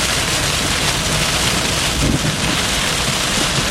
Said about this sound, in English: These strikes appear to be very close from here.